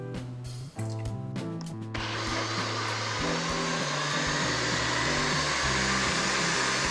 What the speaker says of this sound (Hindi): और अब ये मिक्सचर को हम मिक्सी में पीस लेते हैं।